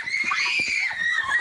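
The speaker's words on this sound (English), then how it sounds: "two kids playing are sent scrambling and screaming when they hear the boom" Children scream loudly and continuously in a residential neighborhood after a sonic boom, shrill sustained cries close by with faint rustling beneath.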